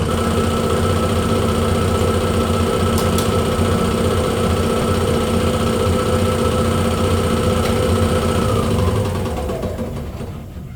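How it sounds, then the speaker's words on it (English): A powered cutting tool slicing apart a 1965 Corvette hood, heard as a loud, steady, continuous whine and rumble that holds for most of the stretch and then winds down near the end, with no talking. "Now I'm going to go slice this apart."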